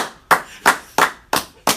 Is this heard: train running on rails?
no